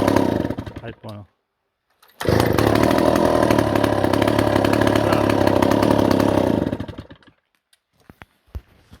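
A Stihl 117 chainsaw engine gives a short loud burst, drops to silence, then revs up hard and holds a loud, steady roar for about four seconds before cutting off, leaving a few faint knocks.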